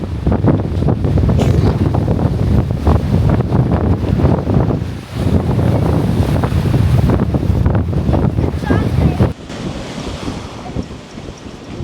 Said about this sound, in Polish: ale wieje